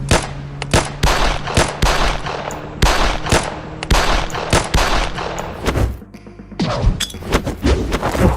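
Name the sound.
gunfire in a video game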